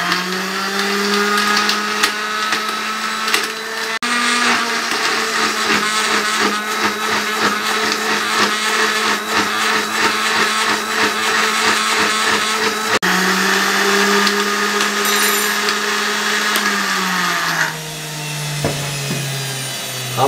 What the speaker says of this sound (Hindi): हमने अच्छे तरीके से ग्राइंड कर लिया प्याज वाली चटनी को।